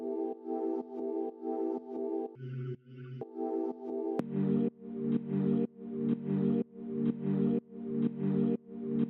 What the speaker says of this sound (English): this is probably from like a vocal sample that I like just manipulated to sound like this